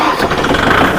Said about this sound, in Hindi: ट्रैक्टर स्टार्ट करके समझते हैं।